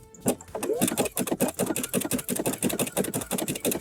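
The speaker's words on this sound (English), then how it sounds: "now we're going to zigzag over these two threads" A sewing machine zigzag stitches over two gathering threads on a skirt, a fast rhythmic mechanical chatter of rapid needle strokes running continuously after a brief pause at the start.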